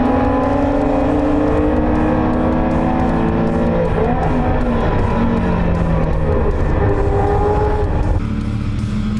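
Historic race cars, including a powerful Tiga, accelerate hard and overtake at Phakisa circuit, producing a loud, continuous engine roar with overlapping rising and falling pitches that drop away near the end.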